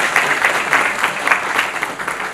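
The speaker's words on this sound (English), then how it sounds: "let's have a round of applause for DPS for pulling this off" A school audience at Delhi Public School Ruby Park gives a short round of applause, steady dense clapping from a gathered crowd in a hall, fairly loud and close throughout.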